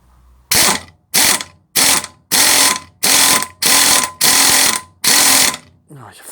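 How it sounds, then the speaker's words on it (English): A ratchet turns a socket to draw a suspension bush into place on a VW Touran, eight loud, evenly spaced clicking bursts close to the microphone, then a brief metallic scrape. "ratchet this and that'll pull that bush further in"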